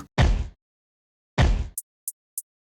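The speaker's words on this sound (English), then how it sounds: "And then you can add a few hats." A deep booming drill-beat kick hits twice, followed by three short, crisp hi-hat ticks in an even rhythm, each sound standing alone with silence between.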